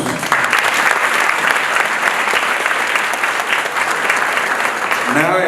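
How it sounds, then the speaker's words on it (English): An audience at a scholarship gala claps steadily, a dense, loud wash of applause filling the hall throughout, with a voice starting to speak at the very end. "You ought to give you all of yourselves a round of applause."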